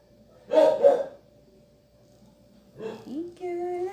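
A dog barks twice in quick succession from a short distance, then a gap before a voice and other talking follow.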